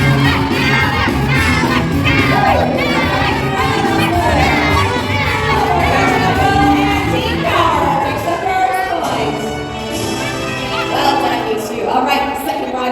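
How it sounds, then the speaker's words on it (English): A grandstand crowd at a horse show at the Canadian National Exhibition in Toronto cheers and shouts loudly and continuously, with many children's high-pitched voices yelling throughout. "Audience ready to cheer?"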